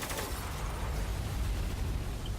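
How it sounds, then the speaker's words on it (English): A grenade blast in the video game Spec Ops: The Line, kicking up sand. It plays as a dense, steady roar of rumbling debris and hiss that stays loud and unbroken throughout. "I also like how the grenades kick up sand"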